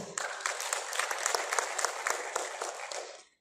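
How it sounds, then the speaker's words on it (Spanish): Steady, fairly distant applause from a crowd at a community gathering in Carabaya, Peru, sustained evenly for a few seconds before stopping abruptly. "Recibamos con fuertes aplausos."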